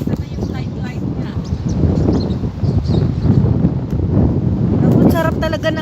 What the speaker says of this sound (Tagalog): Ang sarap talaga ng hangin dito